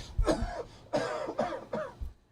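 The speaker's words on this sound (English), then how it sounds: "whenever we cough, we try to go, like, over here again" A person coughs several times in quick succession, close and fairly loud, with short harsh bursts and a slight throat-clearing quality.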